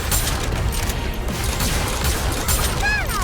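Missile launcher fire in Goddess of Victory: Nikke, a busy spread of mechanical clanks and repeated thudding launches layered over steady battle noise, with whooshing, sweeping tones near the end.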